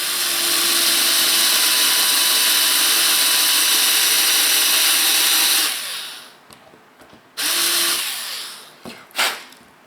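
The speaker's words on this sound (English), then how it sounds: "one trick that I've learned is not to use the forward rotation on your drill, but utilize the backward one" A cordless drill runs in reverse to countersink a screw hole in a Disney Nautilus model build, giving a loud, steady, high-pitched whir for several seconds before stopping, then two short bursts follow.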